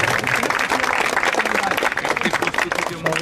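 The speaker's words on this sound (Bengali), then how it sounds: "জোরে করতালি দেওয়ার জন্য অনুরোধ করছি।" An audience claps at a football tournament ceremony, a dense, sustained applause with a voice talking loudly over it.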